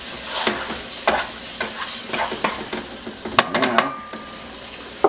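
Lobster thermidor sauce being stirred into a roux in a sizzling pan, a steady fry hiss broken by repeated scraping strokes and light clinks, with a single spoken word near the end.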